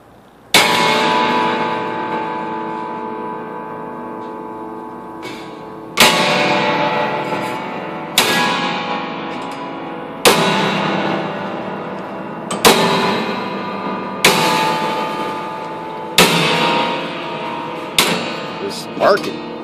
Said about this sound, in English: this is the sound of a piano dying.